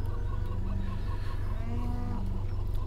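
Chickens clucking at a chicken farm in the video game Farming Simulator 17, steady fowl chatter over a constant low hum, with no talking.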